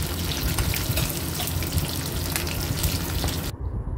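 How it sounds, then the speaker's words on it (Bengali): Fish frying in mustard oil, a loud dense hiss and crackle close up that cuts off abruptly near the end. "লাল লাল করে ভাজা হয়ে গেছে মাছ"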